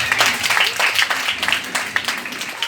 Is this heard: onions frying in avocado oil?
no